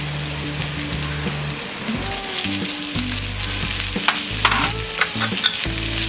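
Chopped onions hit hot oil seasoned with asafoetida and sizzle loudly and steadily, a dense crackling fry with a few stirring knocks from a pan close by.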